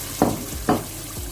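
Chicken pieces fry in a hot pan, a low hiss under two firm scraping stirs and a thud, close and brief, with no voices.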